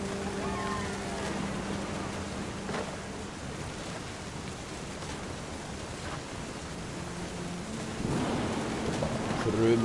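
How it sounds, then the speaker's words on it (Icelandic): Rain and rumbling thunder from a storm scene in the video game What Remains of Edith Finch, a steady wash of rain with low rolling thunder swelling louder near the end. "The thunder sounded much too close and full of angry power."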